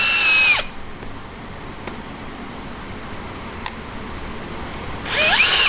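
A DeWalt power drill working on a mini bike build whines loudly in two short bursts, one at the start and one at the end, with a quieter stretch of background noise between them.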